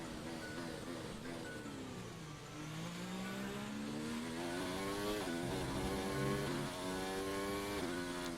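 Formula 1 car engine from the F1 2019 racing game, a loud continuous high-pitched whine that rises and falls through gear changes as the car brakes and climbs a hill toward a hairpin, with no talking.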